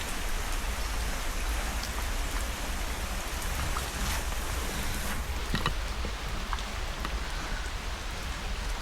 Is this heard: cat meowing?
no